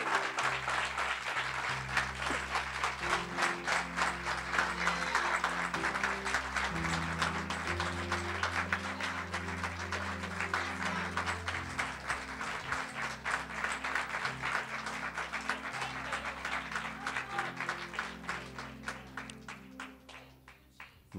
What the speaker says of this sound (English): Y'all clap better for him than me.